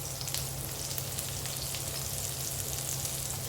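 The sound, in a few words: frying garlic and onion in a pan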